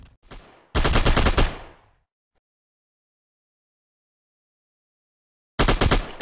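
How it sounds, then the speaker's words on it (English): Two loud bursts of rapid gunfire in a mobile zombie shooter game, a short volley then a long silence before another burst begins near the end. "My teammates started shooting at me"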